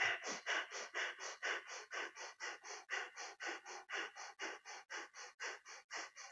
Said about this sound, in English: Look towards your third eye and breath of fire.